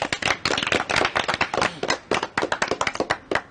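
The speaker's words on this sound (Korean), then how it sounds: "자, 리네이 박수!" A few people clap by hand, close by, in distinct separate claps that come in uneven clusters with short gaps between them, loud and crisp, with no steady roar of a crowd.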